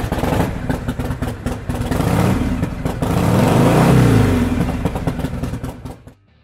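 A 1973 Harley-Davidson FLH1200 Super Glide Shovelhead motorcycle with a 4-speed transmission idles and revs, its loud, lumpy engine rising to a strong swell in the middle before dropping away at the end.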